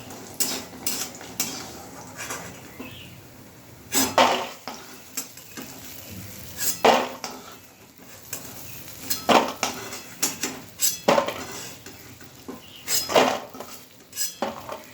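Fried bori, lentil dumplings, are lifted out of a pan of hot oil with a metal utensil, making repeated close clinks and scrapes against the pan in irregular bursts over a faint sizzle, with no voices.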